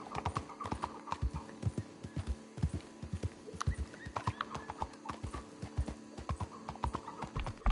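Horse hooves clip-clopping in Red Dead Redemption 2, a steady trotting rhythm of close, distinct hoof strikes with an occasional whinny mixed in.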